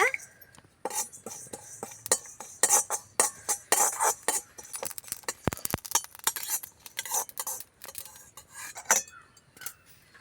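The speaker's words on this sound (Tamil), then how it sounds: "இப்போ ஜீரகம் வறுத்துக்கோங்க" Cumin seeds dry-roasting in a pan for a spice mix for potato fry, stirred with a metal spatula: close, irregular scraping clicks and clinks of utensil on pan repeat throughout, with no voices.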